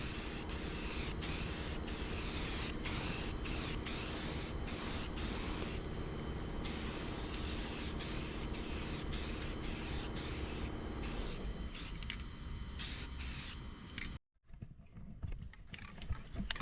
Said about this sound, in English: You want to just spray light coats where you get this little chalky finish.